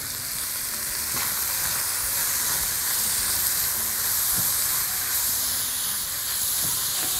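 Shrimp and other seafood frying in a pan, stirred now and then, with a loud, steady sizzle and hiss that runs without a break and no talk over it.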